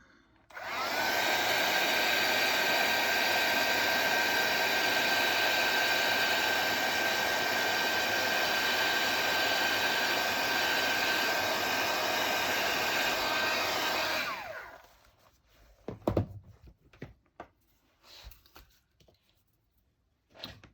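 A heat tool runs steadily at close range for about fourteen seconds, setting embossing powder on a handmade greeting card, then switches off and leaves a few quiet handling clicks and taps.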